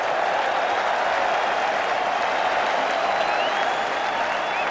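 A packed cricket ground applauds England's 2005 Ashes win, the clapping and cheering loud, dense and continuous from start to finish with faint voices mixed in.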